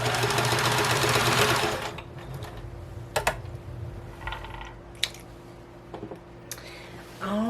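A domestic sewing machine runs steadily for about two seconds, stitching a half-inch seam in upcycled DKNY curtain fabric, then stops, followed by scattered clicks and handling noises.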